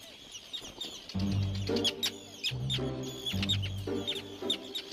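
Terns on a river island in wild Scotland give a rapid series of harsh, chattering calls, repeated bursts of loud, close bird cries that overlap with one another against a low background murmur.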